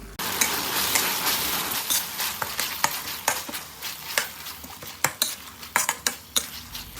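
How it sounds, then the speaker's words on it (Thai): Onions are stir-fried with pork liver in a pan, with a steady sizzle under repeated sharp clinks and scrapes of a metal utensil tossing the food, up close and without voices. "ใส่หอมใหญ่ลงไปพัดครับ"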